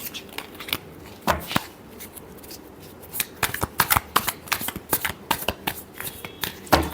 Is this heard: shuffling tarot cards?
yes